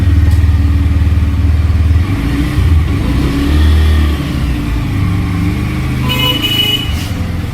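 A Bajaj Pulsar N125 motorcycle nearby, its engine loud and steady as it revs and pulls away, with a brief horn-like tone near the end.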